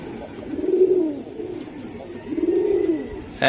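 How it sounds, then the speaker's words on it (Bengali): Giribaj pigeons coo in low, rolling phrases, two clear bursts close by, with a steady murmur of background noise and no talking. "বাইরে ভাই আজকে কবুতর দেখবো"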